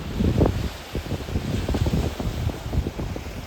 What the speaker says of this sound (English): with that wind blowing